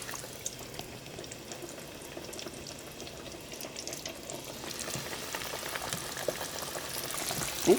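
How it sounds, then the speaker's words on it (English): Batter-coated squash fries in hot oil with a steady, close bubbling crackle. The sizzle grows slightly louder toward the end, with no voices over it. "we're gonna let these fry for maybe about 5 minutes, 3 to 5 minutes"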